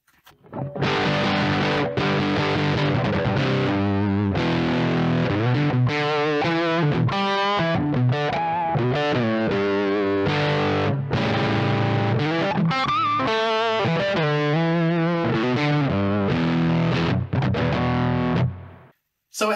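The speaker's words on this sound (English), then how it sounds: "So we're heading into kind of overdrive distortion-y territory" A heavily overdriven, distorted instrument plays sustained, saturated notes and chords, loud and continuous, with no voices.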